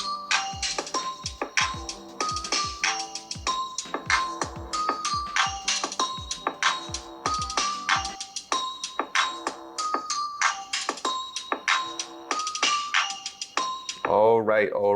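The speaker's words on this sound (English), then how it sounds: "we're going to test out the speakers on this phone to see how good it sounds" A bright, melodic ringtone plays at maximum volume through the small speakers of a Realme GT phone, a repeating pattern of chiming notes, ending with a short rising flourish.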